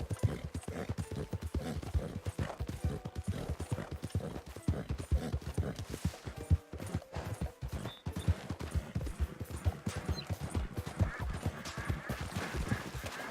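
A horse's hooves clip-clop in a steady, close rhythm on hard ground, with occasional soft background noise and no talking.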